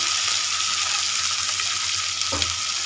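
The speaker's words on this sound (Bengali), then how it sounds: "আলু টমেটো আমার ভাজা ভাজা হয়ে গেছে" Potatoes and tomatoes fry in a pan with a steady, close sizzle and a brief stirring scrape near the end, with no talking.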